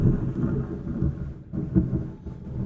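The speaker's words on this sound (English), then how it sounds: "Oh, sounds like a thunderstorm hit." A thunderstorm in the underwater survival video game Subnautica, heard as a steady low rumble with rolling swells, loud and continuous with no voices over it.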